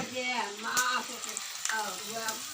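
Banana chips fry in hot oil with a steady sizzling hiss that carries on beneath someone talking.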